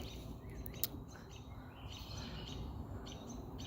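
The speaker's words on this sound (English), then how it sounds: "I love hearing these birds." Faint bird chirps and short calls sound along a forest trail, scattered brief notes sitting over a soft, steady outdoor background with no talking.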